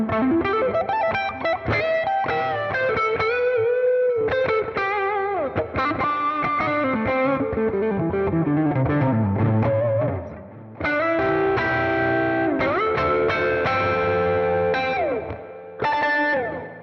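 A bright, twangy electric guitar, a Stratocaster fitted with TV Jones Powertron Plus pickups giving a Telecaster-like tone, with a slightly driven sound plays a lively lead line with sliding bends and ringing chords, loud and close.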